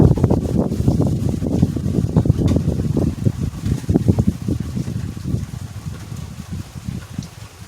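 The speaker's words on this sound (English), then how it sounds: "There's a little windy." Wind blows beneath a stormy sky with a wall cloud overhead, a rumbling, buffeting roar of gusts hitting the microphone, loud and continuous before easing slightly toward the end.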